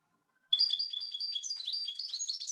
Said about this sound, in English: The evening grosbeak only comes once in a while.